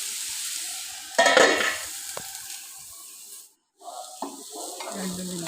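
Stems wilting in a hot pan for a Kerala ela thoran stir-fry are stirred with a spatula, a scraping burst over a soft continuous sizzle, then a short pause and a few more clinks and stirs.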